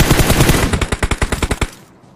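PUBG gunfire rattles in a fast automatic burst, and the evenly spaced shots stay loud and close before the burst stops abruptly into near silence.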